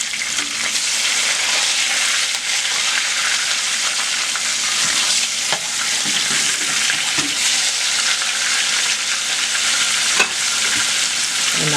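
Salmon fillet with the skin removed frying in a pan over high heat gives a steady, loud broadband sizzle that holds for the whole stretch, with faint clinks and pan-handling knocks scattered through it.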